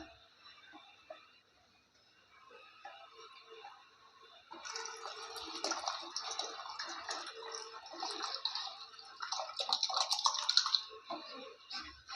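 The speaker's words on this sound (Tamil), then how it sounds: "இப்போ கரைச்சி வச்சிருக்கிற இந்த கம்பை வந்து நம்ம அதில் ஊற்றிடலாம்" Dissolved pearl millet batter is poured into boiling water in a pot, a soft liquid stream and bubbling that builds from quiet into a steady, louder splashing pour.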